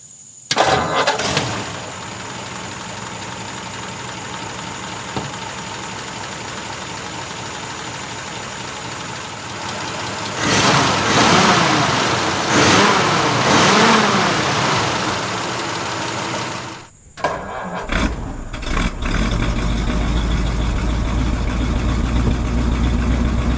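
A 1948 Ford Super Deluxe 8 Tudor engine cranks and fires, settles into a steady close idle, then revs up in several swells before a brief cutoff and a rough restart with deeper running.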